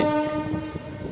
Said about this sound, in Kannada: ನೋಡ್ರಿ ರೈಲ್ವೆ ಹೊಂಟೈತಿ